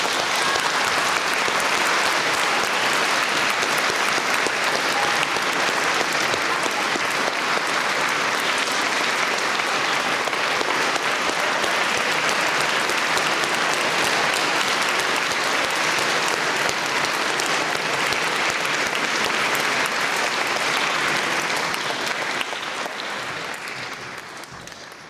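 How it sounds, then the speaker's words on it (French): An audience gives long, steady applause after a Christmas show, a full and even roar of clapping lasting over twenty seconds before it tapers off at the end. "j'aimerais aussi que nous remercions par nos applaudissements ceux qui ont pu"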